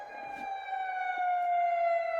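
An emergency alert alarm styled like an ambulance siren sounds as a steady, clear electronic tone with harmonics that slowly slides downward in pitch, continuous and prominent with little else around it.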